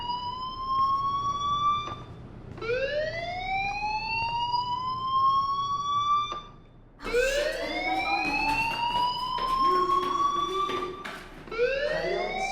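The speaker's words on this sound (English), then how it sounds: "do you hear that fire alarm?" A fire alarm in the video game Life Is Strange wails as a loud siren-like tone, each note sweeping upward and holding steady before it cuts off and starts again, with several rising cycles in a row.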